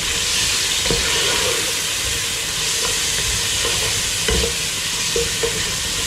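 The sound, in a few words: chicken frying lightly with salt and pepper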